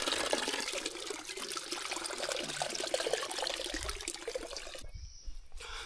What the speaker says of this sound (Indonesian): Oke, kita isi dulu nih, refill dulu air.